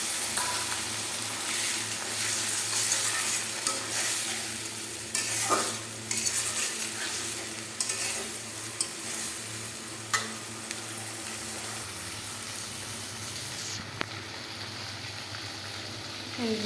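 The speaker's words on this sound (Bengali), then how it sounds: "মশলাটা এইভাবে কষিয়ে নিচ্ছি" Spice paste frying and being stirred in a pan for a country chicken curry, a continuous low sizzle with repeated scraping strokes of a spatula, close and fairly quiet, without talk.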